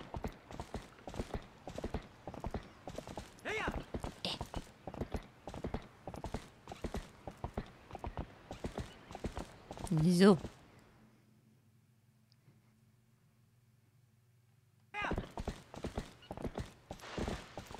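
In the video game Zelda: Twilight Princess HD, a horse gallops in quick, steady hoofbeats and briefly whinnies before the sound drops to near silence, then the galloping resumes. A voice speaks once.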